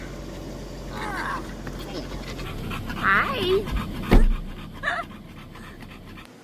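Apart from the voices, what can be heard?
puppy panting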